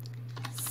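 A few quick keystrokes on a computer keyboard during a first-grade English typing lesson, brief clicks over a steady electrical hum.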